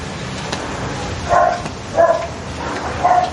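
A dog barks three times at roughly even intervals, moderately close, over a steady background hum, with no talking.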